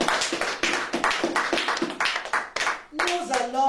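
A church congregation claps in rhythm at a Sunday service, a series of strong, evenly spaced group claps about twice per second, followed by raised voices acclaiming at the end.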